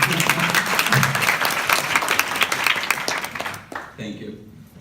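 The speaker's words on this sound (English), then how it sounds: "Can we have a round of applause?" Audience applause for a volunteer at a volunteer day keynote, a dense steady burst of many hands clapping that fades out sharply near the end, leaving a quiet tail.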